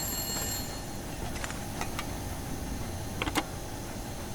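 Telephone in the video game The Long Dark, faint bell-like ringing tones and a few sharp ticks and clicks over a quiet, steady room hiss.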